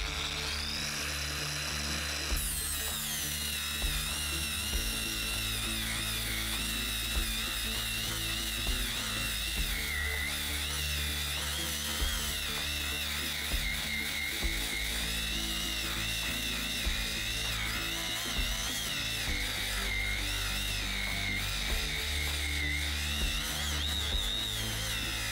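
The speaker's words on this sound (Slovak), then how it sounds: "teraz na flexu vyskúšam pri brúsení poriadne zatlačiť" A Herman WX-12506 brushless 1300 W angle grinder with speed control grinds under heavy pressure, holding a loud, steady high-pitched whine close up for the whole stretch without bogging down.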